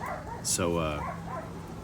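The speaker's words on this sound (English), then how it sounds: "There's my dog barking." A dog barks in a backyard, a single bark at mid distance over steady outdoor background noise, with a person talking nearby and other dogs barking.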